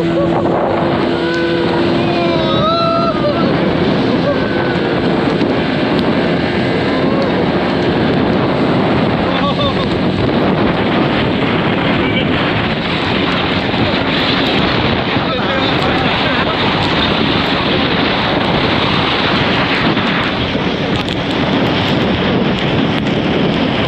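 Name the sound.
speed boat ride over waves in rain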